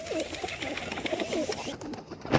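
Several pigeons coo nearby in repeated soft, throaty rolling calls, overlapping one another, with light knocks and handling noise toward the end.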